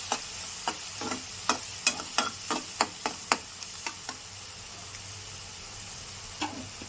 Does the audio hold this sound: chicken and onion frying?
yes